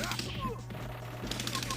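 Gunfire from The Punisher arcade game during a gun segment, a busy burst of rapid shots over electronic game sounds and a steady low hum, fairly faint throughout.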